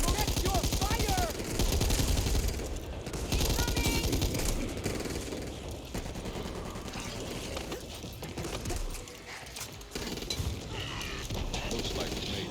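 Rapid gunfire in the zombie shooter Back 4 Blood, dense and continuous bursts that are loudest early on and then carry on steadily under a busy, mechanical game mix.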